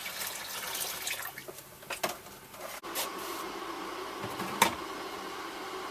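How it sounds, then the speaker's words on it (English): Warm water poured over malt extract to rinse it out while brewing a Full Sail IPA: a faint, soft trickle and splash that comes and goes, with a couple of brief clinks. "What I'm going to do, I'm going to keep adding water"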